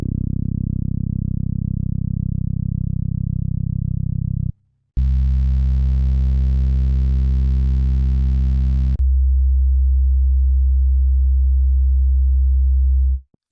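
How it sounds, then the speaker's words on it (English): Boom bap drum kit bass samples play as three long, deep, smooth tones one after another, each held about four seconds with a short silence between the first two; loud and alone, no talk. "Every single one of these bass samples right here has really good low end to it."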